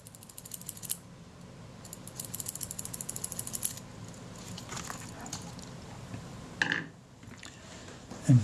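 The blade actuating ring of a Kodak Retina IIa camera is worked back and forth during servicing. It gives close, faint runs of tiny ratcheting clicks and mechanical ticks, with a few sharper knocks near the end and no speech.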